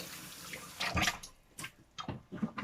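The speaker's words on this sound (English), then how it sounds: "wash my hands again" Water runs from a tap over hands being washed in a home kitchen, splashing in uneven bursts and rises close by, with no talking.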